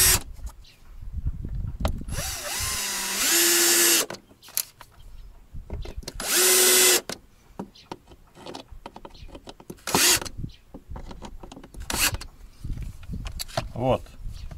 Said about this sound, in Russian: Сейчас закрутим.